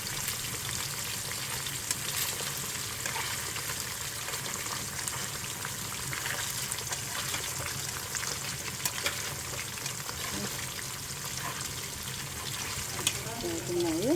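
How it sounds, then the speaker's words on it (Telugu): Fish pieces fry in a pan of curry with a dense, continuous sizzle, close and steady throughout, with faint stirring clinks near the end. "సో చేపల ముక్కలు అయితే ఫ్రై అవుతున్నాయి."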